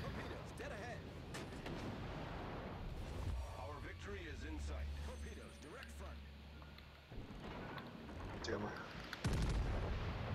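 Naval guns firing in World of Warships arcade mode, repeated sharp booms and heavy blasts over a low engine rumble, with a player talking excitedly between shots.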